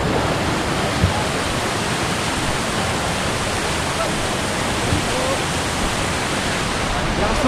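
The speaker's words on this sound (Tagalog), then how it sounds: "Lakas ng agos." Strong river current rushes at the Bukal river lagoon in Bulacan, a loud, dense, unbroken roar of water that fills the whole stretch.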